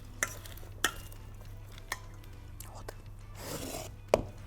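Halloumi cheese salad being stirred in a bowl, giving soft scraping and rubbing strokes with a few sharp clinks of the utensil, quiet and close with a steady low hum behind.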